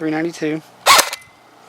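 A single sharp shot from a DBoys AK74 airsoft gun firing .20 BBs through a chronograph on its stock 8.4 battery, a short crack following a spoken voice and then quiet.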